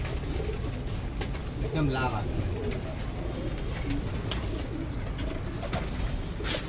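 Teddy and Golden pigeons coo softly in a loft amid steady background hum, with someone talking over the birds.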